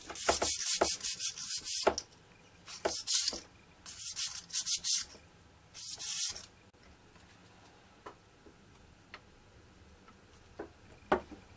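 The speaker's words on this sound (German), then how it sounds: "schleife ich den ganzen Mast mit relativ grobem Schleifpapier einfach mal so ab" A wooden model mast for a 1/35 scale Sd.Kfz. 251/7 diorama is sanded with coarse sandpaper in several bursts of close, raspy rubbing, then quieter scattered ticks and taps.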